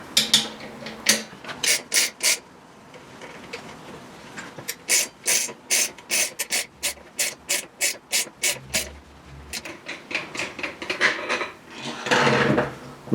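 A wheel bearing for a Suzuki Hayabusa front wheel is wound into its seat with a threaded press and spanner, making close, rhythmic metallic ratcheting clicks in steady bursts, followed by a brief scraping shuffle at the end.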